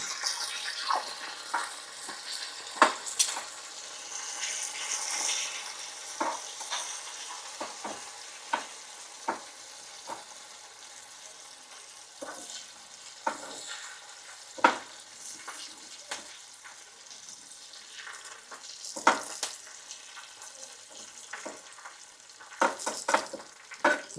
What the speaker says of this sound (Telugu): తాలింపు కొంచెం బాగా వేగనిద్దాము